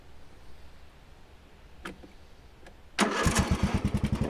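Small wood-built tractor engine fitted with a new carburettor cranking, then catching and starting up, settling into a loud rapid chugging idle after a few faint clicks and quiet moments.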